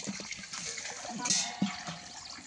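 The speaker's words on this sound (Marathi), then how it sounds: "कोणी कोणी असं पाणी भरलंय सांगा" Water is filled in a village home, a quiet, brief stretch of pouring and trickling liquid with faint voices in the background.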